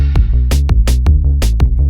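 A drum pattern programmed on an OP-Z synthesizer, its kick and snare repeating in a short looping sequence with sharp, loud, evenly spaced hits over a sustained low tone, no voices.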